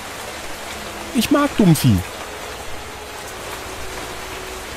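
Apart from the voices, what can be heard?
rain in the video game Life in the Woods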